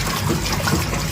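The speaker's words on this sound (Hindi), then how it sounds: "यहाँ से पानी बह रहा है, निकल रहा है इस पाइप से" Water gushes steadily out of a pipe while clothes are washed by hand, a close, continuous rushing stream.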